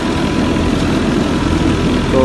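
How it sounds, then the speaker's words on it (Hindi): A 375 tractor engine runs near a trolley, a loud, steady low rumble with constant vibration and no letup. "ये जनाब 375 ट्रैक्टर डाला हुआ है इसमें।"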